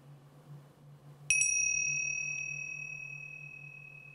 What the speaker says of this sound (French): Et vous pourriez nous faire un petit gong pour lancer la prochaine rubrique